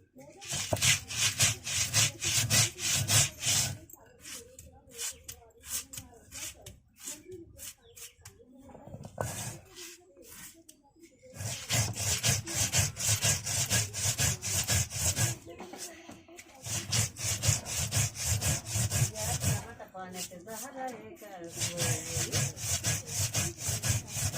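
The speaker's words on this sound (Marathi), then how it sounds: "आता झाली मिरची वाटून" Green chilies ground by hand on a stone grinding slab, a steady rasping scrape repeated in long rhythmic strokes with a few short pauses, close and fairly loud.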